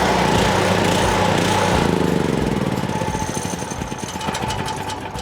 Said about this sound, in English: Turn on the gas, turn on the choke, push the button.